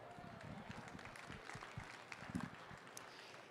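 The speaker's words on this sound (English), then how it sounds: "Let's give that a round of applause" Applause from a convention audience at a farm bureau stage event, a dense, steady patter of many hands at moderate distance that carries on through the whole stretch.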